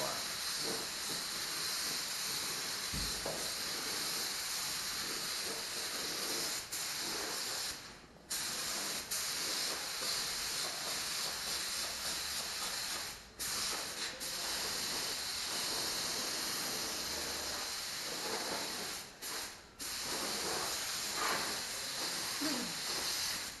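A spray gun painting a car inside a paint booth, a long, steady hiss that runs almost unbroken, stopping briefly a few times as the trigger is released, with faint voices in the background.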